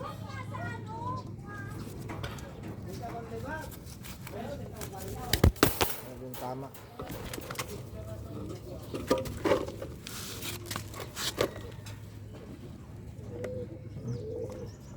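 Pigeons coo softly in short repeated calls, with flapping and rustling, while people talk nearby; one bird has been bitten by a cat.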